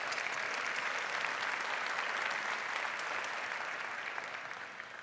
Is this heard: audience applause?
yes